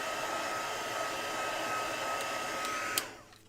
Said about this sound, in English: If I didn't have the heat gun, we'd be sitting here for ages waiting for it to dry.